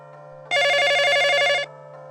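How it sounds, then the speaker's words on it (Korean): A telephone rings in a quiet home at night, one bright, trilling electronic ring lasting just over a second, close and clear over a low steady hum. "그때 엄마한테 전화가 왔어요."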